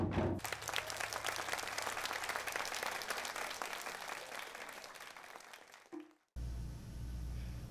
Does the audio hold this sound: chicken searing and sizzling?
no